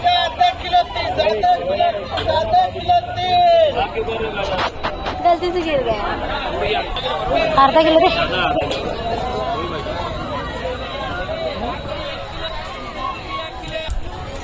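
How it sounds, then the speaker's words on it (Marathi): A busy vegetable market crowd gives off a steady, dense hubbub of overlapping voices and chatter that runs throughout, with nearby talk rising above the general din. "गर्दी बघा आज बाजारामध्ये केवढी आहे"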